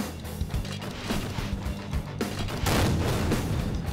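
Explosive tank cannon rounds fire in a Garry's Mod vehicle skirmish between a mech and a tank, giving loud, repeated heavy blasts over a constant rumbling engine drone, with a stronger boom near the end.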